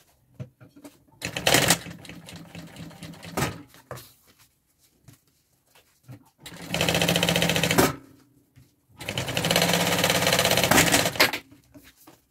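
A sewing machine topstitching a seam on a baby bag runs in three bursts, a brief one early and two longer steady whirring runs later, with quiet handling pauses between.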